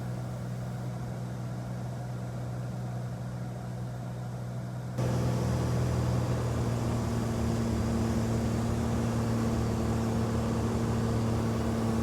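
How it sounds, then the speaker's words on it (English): A Cirrus airplane makes a no-flaps landing at Austin, heard from inside the cabin as a constant engine drone and broadband roar that steps up noticeably in loudness partway through. "This is our no flaps landing back at Austin"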